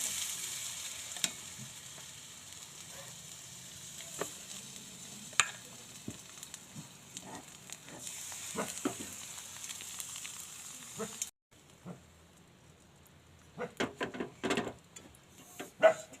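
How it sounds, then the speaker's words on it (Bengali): Egg paratha batter with chopped onion, green chilli and egg fries in a little oil, giving a soft, steady sizzle with scattered pops and crackles, quiet and close, interrupted by a brief gap before louder clatters near the end. "এবার এটাকে অল্প অল্প করে তেল দিয়ে ভেজে"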